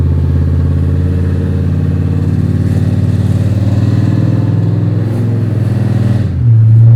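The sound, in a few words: cammed Chevy Silverado truck engine running through gears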